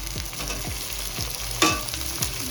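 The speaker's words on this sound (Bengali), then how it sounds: "হালকা করে ভাজা ভাজা করবো নাড়াচাড়া করতে থাকবো" Pieces of stingray fry in a pan while being stirred, a steady close sizzle broken by rhythmic scraping strokes of a spatula and a sharp clatter near the middle, with no talking.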